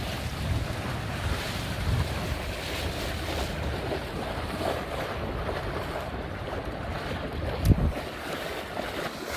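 A small tiller-steered boat moves through choppy waves on Lake Oahe, with steady wind buffeting the microphone and water slapping and rushing beneath the hull, one sharper splash-thump near the end, no speech.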